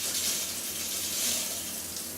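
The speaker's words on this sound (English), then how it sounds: "relaxing, soothing shower. Just surrender to it. It washes away the grime of the day." Warm shower water runs in a steady, even hiss for the whole stretch, close and fairly loud, with no voices over it.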